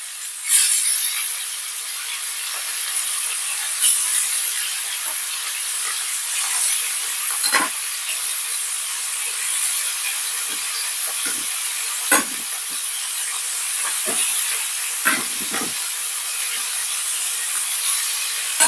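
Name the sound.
chicken meat browning in pot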